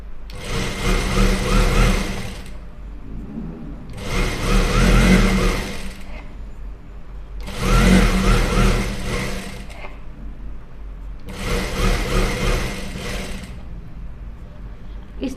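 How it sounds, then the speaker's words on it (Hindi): A sewing machine stitches a fancy neck design on a garment in four loud bursts of steady running, each about two to three seconds long, separated by short pauses. "अब यहाँ पर हमें सिलाई चलानी है"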